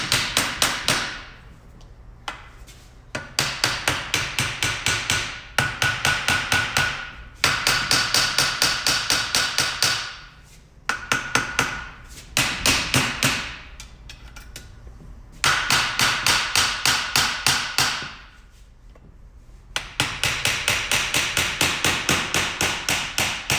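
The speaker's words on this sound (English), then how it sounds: "what we can do is just tap the whole housing out" A hammer strikes a Toyota 7.5 inch front differential housing in quick, sharp metallic bursts of rapid taps, pausing briefly between runs, close and loud with no talk.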